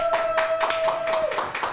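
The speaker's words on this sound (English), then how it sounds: "round of applause" A small group claps during a Christmas story show, with a handful of moderately loud, separate hand claps in an uneven rhythm and a faint steady tone in the background.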